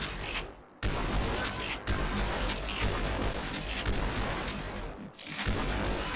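Gunfire in the VR shooter Population One, a dense, loud run of shots and bursts filling the stretch, with brief gaps between volleys.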